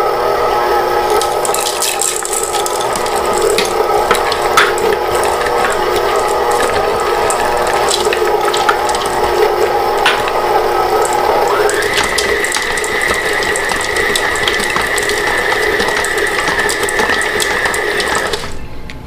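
A stand mixer runs on low while folding pecans, peanut butter chips and milk chocolate chips into cookie dough. It makes a loud, steady whirring and clattering, and the pitch shifts partway through. No one speaks.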